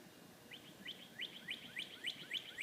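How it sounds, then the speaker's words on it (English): A small bird chirps outdoors near a street and sidewalk, giving a quick run of about eight faint, high tweets in a steady rhythm over a low background hum. "You hear the birdie?"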